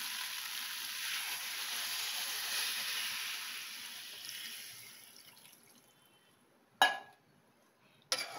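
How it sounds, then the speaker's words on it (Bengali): Water poured into a hot pan of bata fish curry with pointed gourd, drumsticks and potato sends up a loud steam hiss that fades over several seconds, followed by two sharp knocks, with no voices. "এই সময় আমি জল দিয়ে দেবো।"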